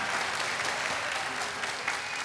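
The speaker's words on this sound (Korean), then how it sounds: "또 개최 선정 이후에도 또 더 바빠지실 우리 박형준 시장님 위해서 여러분 격려의 박수 부탁드립니다." An audience gives a round of encouraging applause for a city mayor at a public event, many hands clapping in a steady, fairly soft wash heard from a moderate distance without talk.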